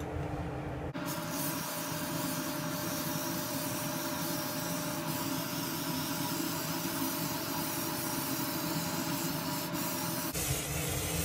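Penetrating oil hisses steadily from an aerosol can onto rusty Jeep Wrangler bolts, one continuous close, loud spray lasting about ten seconds with a sharp start and stop.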